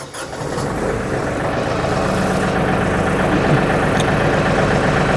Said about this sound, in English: You start the tractor.